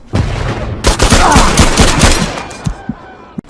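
Rapid semi-automatic M1 Garand rifle fire in the WWII shooter game Hell Let Loose, a fast burst of loud, sharp shots in quick succession that trails off into a few scattered cracks.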